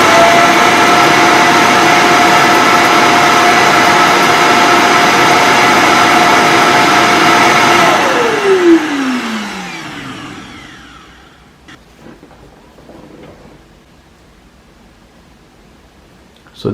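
A TP-Link Tapo RV10 Plus robot vacuum's auto-empty station runs a loud, steady suction roar for about eight seconds, then winds down with a falling pitch and fades into quiet clicks.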